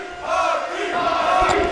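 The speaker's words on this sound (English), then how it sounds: "Now listen to this crowd, still showing their love, showing their respect for Hakeem Young" Wrestling event crowd cheering and shouting in a hall, a short sustained roar of voices at moderate distance.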